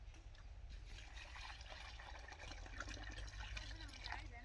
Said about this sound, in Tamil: அதில் வந்து 10 லிட்டர் தண்ணி ஊற்ற போகிறோம்.